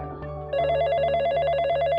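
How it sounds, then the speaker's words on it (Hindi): A telephone rings with a steady electronic warble, repeating rapidly and clearly up close, with a low hum beneath and no voices. "जाओ देखो तो किसका फोन है।"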